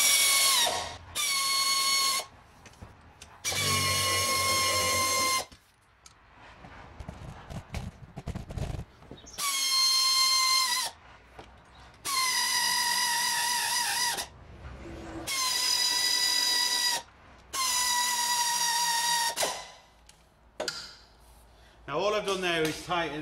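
Air impact gun hammering on axle mount bolts of a Land Rover Freelander in a home garage, several loud sustained bursts of a second or two each, separated by pauses with some handling noise.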